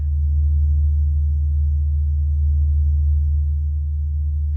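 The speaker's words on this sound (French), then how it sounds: "C'est une sorte de gargouillis de sons graves" Sonified sound of the Sun, a continuous deep, low droning hum that stays steady and fairly loud throughout, with no voices.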